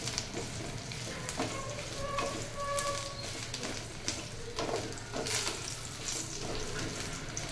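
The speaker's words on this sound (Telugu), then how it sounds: "సో అందులోనే ఈ ఎండిన కరివేపాకు వేసి ఫ్రై చేస్తున్నాను" Dried curry leaves fry in oil in a pan, giving a soft, dense crackle and sizzle with occasional stirring scrapes. The sound is close and fairly quiet, with no talking.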